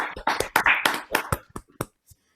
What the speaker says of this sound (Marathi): तर आपण त्यांच्यासाठी एकदा टाळ्या वाजूया